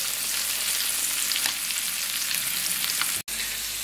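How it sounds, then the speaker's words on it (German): Beef fillet sears in a hot pan while being prepared for Beef Wellington, giving a steady, dense, close sizzle with a brief dropout near the end and no talking. "Es sind nur noch 2 Seiten, die wir anbraten müssen."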